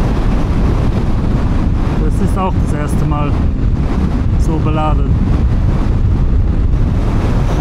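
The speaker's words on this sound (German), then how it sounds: "Hier geht gerade ziemlich krass der Wind." A constant, loud roar of strong wind batters the microphone while riding a heavily loaded motorcycle through Bolivia, persisting throughout as a person speaks briefly over it.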